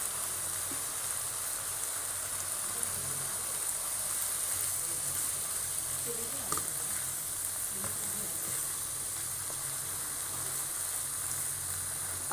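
Chicken and onions fry with soy sauce in a pan over high heat, giving a steady, even sizzle that stays close and constant throughout without letup.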